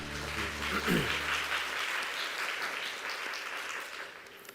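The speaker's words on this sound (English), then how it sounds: "please welcome them with a big round of applause" A conference audience at the Asian Leadership Conference breaks into applause, a steady full round of clapping over a fading musical chord that tapers off near the end.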